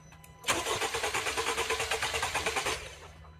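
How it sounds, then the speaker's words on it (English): A car engine cranks over for a couple of revolutions during a compression test with fuel and ignition disabled, a brief rhythmic starter churn of about two seconds with no firing, fairly quiet and close. "so we cranked it over a couple revolutions"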